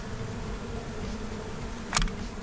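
Honey bees buzzing in an open beehive, a steady close drone that persists throughout, with a brief sharp rustle or knock near the end and no talking.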